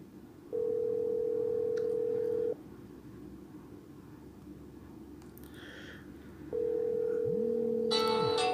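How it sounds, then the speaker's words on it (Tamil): A phone rings from a call placed through a messaging app, giving two steady ringback tones separated by a pause, with a short sliding chime at the end over faint room noise. "இப்போது என்னுடைய அடுத்த மொபைலுக்கு வந்து ஸோ கால் வருது"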